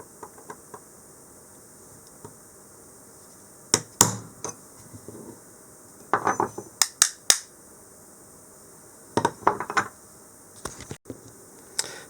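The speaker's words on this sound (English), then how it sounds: "trying to just fold a bit of the motor casing over with a hammer and chisel" Sharp metallic hammer-on-chisel blows ring out in small clusters, folding over a cordless grinder's motor casing, against a low steady hum, with quiet pauses between each group of strikes.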